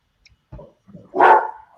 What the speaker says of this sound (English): there goes my dogs barking at something.